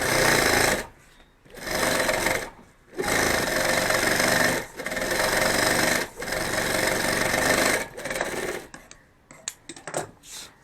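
Sewing machine stitching a bag handle: loud, close bursts of rapid mechanical stitching a second or two long, separated by short pauses, with lighter ticks and handling noise at the end.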